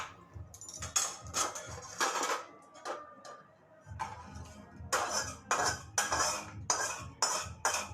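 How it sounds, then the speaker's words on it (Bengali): Leafy greens are poured into a cooking pan in a home kitchen, with rhythmic metallic scraping and clinking of a utensil against the pan and soft sizzling, close and moderately loud, in uneven strokes. "তো এই যে শাকটাকে এবার ঢেলে নেব।"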